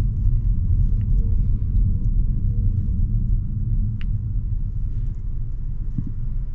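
A 2024 Mazda 3 sedan with a non-turbo engine is driven, heard from inside the cabin as a steady, loud low rumble of engine and road noise with no talking.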